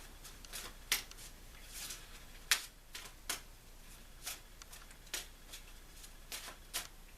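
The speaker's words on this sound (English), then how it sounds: "I'm going to take the first pile, and we're going to shuffle." A deck of tarot cards is shuffled by hand at close range. Soft riffles and flicks come in irregular short bursts over a quiet background.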